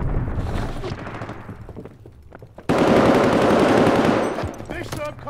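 MG 42 machine gun in Call of Duty Vanguard, a loud close burst of extremely rapid fire that cuts in abruptly after quieter in-game chatter and battle noise, then fades out.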